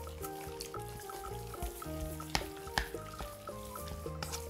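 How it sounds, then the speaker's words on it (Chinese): Chopsticks stirring a raw meat filling with seasonings and eggs in a bowl, soft wet squelching and light clicks, quiet beneath steady background music. "把所有调料都放进来，然后用筷子不停的搅拌"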